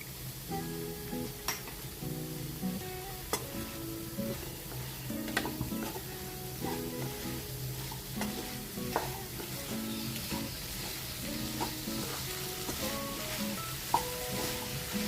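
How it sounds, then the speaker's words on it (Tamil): Steady frying sizzle as spices, turmeric and salt are stirred in a pan with a spoon, scraping, with occasional soft clinks and taps, no voices. "இதை நல்லா சேர்த்து கிளறி விட்டு நல்லா வேக விடணும்"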